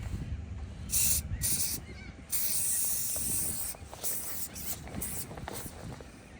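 Several short hissing bursts from an aerosol insect spray can, some brief and some longer, sprayed in quick succession at close range.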